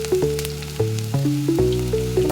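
Ginger garlic paste frying in a pan for a chicken and mung dal curry, a soft sizzle running under prominent stepping melodic tones, with no speech.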